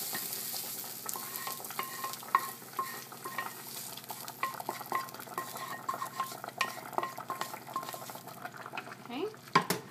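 Food frying in a pan with basil and garlic for a Dominican guandules dish is stirred steadily, giving a continuous sizzle with scraping clicks of utensil on metal throughout, close and moderately loud.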